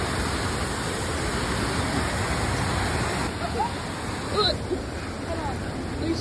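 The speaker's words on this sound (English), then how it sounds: "we're going to be looking at some crazy, crazy waterfalls" A waterfall in North Carolina pours with a constant broadband rush of falling water, steady and fairly near, with faint voices and footsteps near the end.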